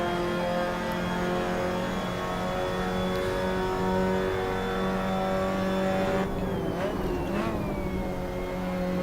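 Mazda MX5 Cup race car in the Assetto Corsa sim at the Red Bull Ring, driven with a sequential stick: a steady, loud four-cylinder engine drone holding high revs, then shifting pitch and dipping near the end.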